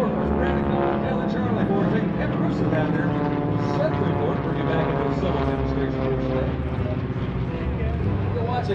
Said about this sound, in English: Our pilots are coming back from mission. Come over the airfield.